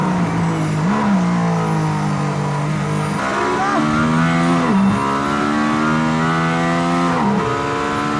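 A Mercedes-AMG ONE hypercar engine screams loudly and continuously near 11,000 rpm, pitch climbing, dropping briefly at gear shifts, then climbing again.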